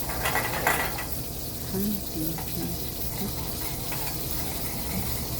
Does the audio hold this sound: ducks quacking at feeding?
no